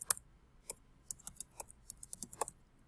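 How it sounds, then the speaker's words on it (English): Typing on a computer keyboard while writing a Java while-loop program, with sharp, close individual key clicks coming in irregular bursts, sparse at first and then quicker, with no talk. "I'm having trouble typing here."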